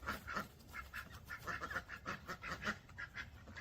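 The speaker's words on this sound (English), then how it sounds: "Ducks are not afraid of the dogs, and the dogs aren't afraid of them." A flock of ducks keeps up rapid, overlapping quacking at a moderate distance over a steady outdoor background hum.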